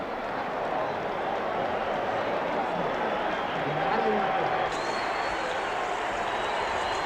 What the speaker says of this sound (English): Just listen to the noise of this crowd.